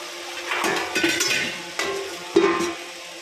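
A curry gravy sautés in a covered pan: a soft frying sizzle under scattered clinks and knocks of utensil and lid against metal. The sound is fairly quiet and there is no speech.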